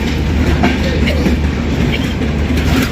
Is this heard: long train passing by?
yes